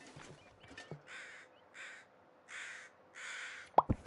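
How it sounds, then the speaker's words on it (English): Crows in the video game The Long Dark caw at morning, four or five drawn-out harsh calls spaced through the stretch over a faint steady hum, followed by a sharp knock near the end. "the sound of crows heralds the morning"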